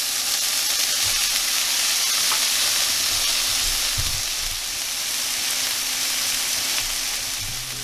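Venison smash burger patties frying with a loud, steady hiss and crackle that carries on without a break, with a few soft low knocks of a spatula beneath it.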